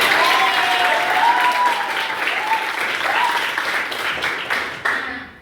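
Classroom group applause in a religious studies lesson on Jesus's disciples, a dense, steady wash of clapping from many hands with faint voices and whoops mixed in, fading out near the end.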